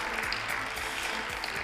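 Applause from a live audience at a radio special event in Elche, a steady, dense patter of many hands clapping close by throughout, with no voices on top.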